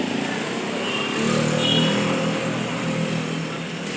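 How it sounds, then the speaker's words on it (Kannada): Continuous drone of small engines from passing motorbikes, scooters and auto rickshaws, swelling slightly as one goes by, moderately close. "ಆಟೋ ಮತ್ತು ಬೈಕ್, ಸ್ಕೂಟಿ ಎಲ್ಲ ಹೋಗ್ತಾಯಿದೆ ನೋಡಿ"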